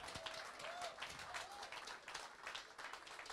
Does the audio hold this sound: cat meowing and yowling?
no